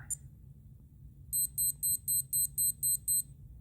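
A Timex Ironman 8-Lap digital watch sounds its timer alarm: a close run of eight sharp, evenly spaced electronic beeps in quick rhythm after a brief click.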